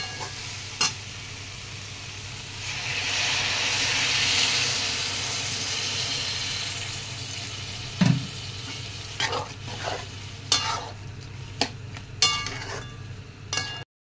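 Soybean chunks stir-fried with spices in a pan, a steady close sizzle and hiss swelling midway, then scattered stirring scrapes and light metallic clinks near the end, with no talking.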